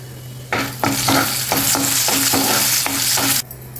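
Chana dal, urad dal, mustard seeds, cumin and a dried red chilli tempering in hot oil, a loud steady sizzle with repeated rhythmic stirring scrapes close up, ending abruptly.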